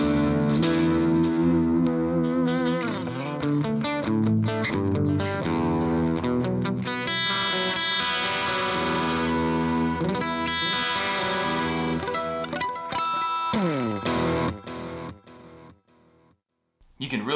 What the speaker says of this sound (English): You can really hear the delay on that one.